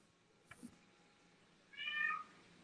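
Pet cat gives one clear, drawn-out meow close by in a quiet room, preceded by a brief soft thump.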